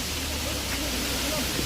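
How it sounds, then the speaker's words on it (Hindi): A waterfall near Joshimath on the Badrinath route sends out a steady, unbroken rushing roar of falling water that holds at an even level throughout. "मैं इस खूबसूरत से झरने का एक छोटा सा व्यू आपको दिखाना चाहता हूँ"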